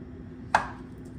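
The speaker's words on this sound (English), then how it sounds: "Straight down, let the knife do the work." A single sharp knife cut through plantain on a cutting board: one quick, crisp chop against a quiet background, close and brief.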